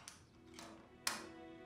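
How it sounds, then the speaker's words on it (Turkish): Three separate knocks on a door, sharp and fairly quiet, spaced about half a second apart, with a faint steady hum behind them. "bir kapı çalıyor."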